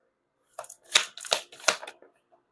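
Tarot cards being shuffled by hand: four or five soft, quick riffling bursts in a row, close and fairly quiet, with silence around them.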